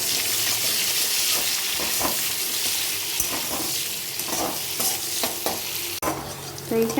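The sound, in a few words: onion frying in hot oil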